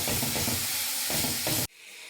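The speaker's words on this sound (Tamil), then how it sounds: "இப்போ அந்த நெய்யில் நம்ம கட் பண்ணி வச்சுருக்கிற பனானாவை சேர்த்துக்கலாம்" Cut banana pieces are added to hot ghee in a pan for a red poha snack and stirred, giving a loud, close, continuous sizzle with rhythmic scraping strokes that stops abruptly near the end.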